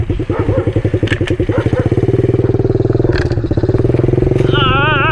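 A pit bike engine chugs and revs close by while riding over bumpy ground, with rattles and knocks from the jolts and a brief higher whine near the end.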